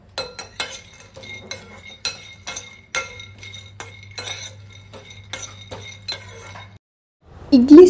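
Peanuts being dry roasted in a pan for chutney are stirred with a metal utensil, making rapid, repeated clinks and scrapes in an uneven rhythm with a low hum beneath, ending in a louder rush.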